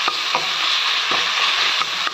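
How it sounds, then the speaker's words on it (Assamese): Onion fries and sizzles in hot oil with a steady hiss, punctuated by several stirring scrapes, close and loud with no talking. "তেলটো গৰম হৈ গ'ল, এতিয়া পিঁয়াজটো ভজা হৈ গৈছে।"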